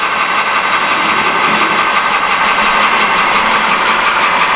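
A metal lathe turns down a shoulder bolt, its motor and the cut producing a loud, steady mechanical whir with an even, continuous hum and no pauses.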